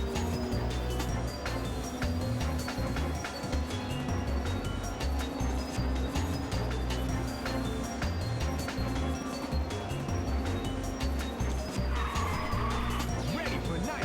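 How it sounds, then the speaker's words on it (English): Tire squeal and revving engine as a car drifts in the video game Ridge Racer on the PSP, a steady loud racing drone with a brief higher screech near the end. "That was a lovely drift there, if I do say so myself."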